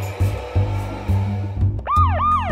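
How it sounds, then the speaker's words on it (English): A police car siren in a children's app starts up as a rising and falling wail after a few rhythmic thumps of background music, loud and close. "We've got the siren"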